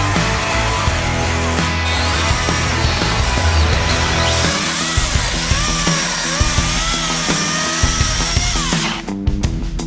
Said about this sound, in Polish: testować piłę akumulatorową